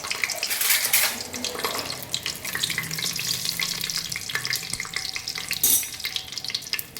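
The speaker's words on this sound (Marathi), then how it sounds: "तेल तापून झालं की ही दालचिनीचे खडे टाकायचे आणि ही टमालपत्र त्याच्यामध्ये घालून घ्यायची" Cinnamon sticks and a bay leaf sizzle in hot oil for a spicy village-style chicken dish, making a steady, close frying hiss with crackles and a few sharper pops throughout, with no talk.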